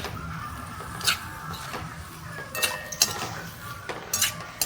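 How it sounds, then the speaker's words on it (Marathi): Dry drumstick curry with roasted coconut and crushed peanuts is stirred in a pan, a spoon clinking and scraping the metal in several short strokes over a faint background hiss. "चांगली हलवून घेतली शेवग्याची शेंग"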